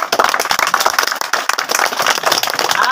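An audience at a street magic show claps, a loud, close, irregular burst of many hands that rises and falls without pause.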